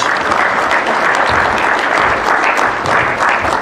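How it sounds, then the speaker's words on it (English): Sustained, loud applause from a crowd at an ANC regional gala dinner as a guest is welcomed to the podium, dense and steady throughout with no voices over it. "May we give him a round of applause as he comes through"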